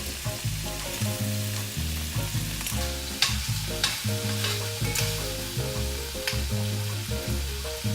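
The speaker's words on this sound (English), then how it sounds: "let's toss in our heirloom tomatoes and mix it with the shrimp and garlic" Heirloom tomatoes stirred through shrimp and garlic in a hot pan, a continuous close sizzle with a spoon scraping and turning the food in an uneven rhythm, with music playing beneath.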